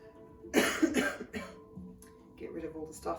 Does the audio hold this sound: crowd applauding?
no